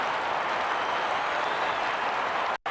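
Stadium crowd roar from the football video game Red Card 2003 on GameCube, a steady dense wash of cheering that holds evenly throughout, then cuts out abruptly just before the end.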